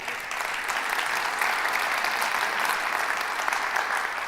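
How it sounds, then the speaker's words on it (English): Steady applause from an audience at a mayor's State of the City address in Flint, a dense wash of clapping that holds at an even level throughout without pause or voices. "Definitely give that a round of applause."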